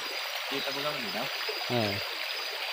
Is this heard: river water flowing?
yes